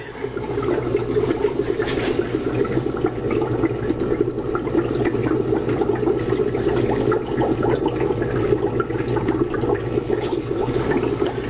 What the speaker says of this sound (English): So now I'm going to pour it into my jug.